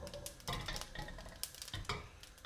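Mustard seeds crackle and sizzle in smoking-hot mustard oil in a pan, with scattered sharp pops and a steady frying hiss at close range, heard alone.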